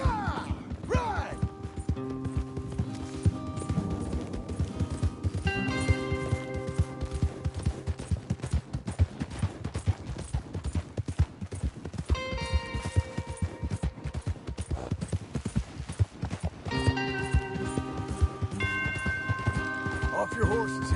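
Horse hooves pound steadily in the Red Dead Redemption 2 video game, a continuous drumming gallop layered under game music and sound effects while characters talk.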